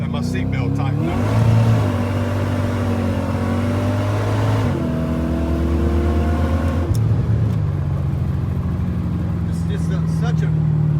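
Supercharged Ford car with a 306 engine, Vortech T-Trim blower at 12 lbs boost and AOD transmission, accelerating at half throttle; engine note rises through gears with shifts, heard from inside the car, steady and fairly loud.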